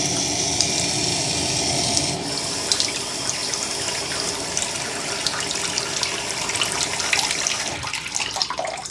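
Tap water runs steadily into a bathroom sink with a newly installed anti-clogging pop-up drain stopper closed, a continuous close splashing stream with small clinks partway through and no voices.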